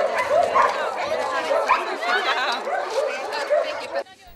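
Many dogs bark and yip together in the yard of the Herosz animal shelter, a busy overlapping chorus close by that cuts off abruptly near the end.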